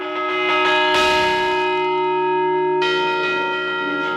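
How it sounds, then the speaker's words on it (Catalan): Large church bells swung and rung by hand by a team of bell ringers in a Valencian town tower, loud and close with long sustained ringing tones and a fresh strike partway through. "El toc és manual i els concerts dels dies festius estan a càrrec de 15 campaners."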